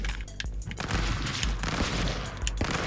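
Rapid gunfire from the video game Stick Fight crackles in quick bursts and single sharp shots, loud and dense throughout, mixed with game effects.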